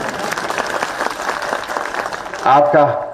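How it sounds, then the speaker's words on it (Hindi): A crowd claps through a political rally in Dalhousie, a dense, steady patter of applause throughout, with a loud voice cutting in near the end. "पुरुष भाई ताली बजाओ आप लोग, अच्छा रहेगा"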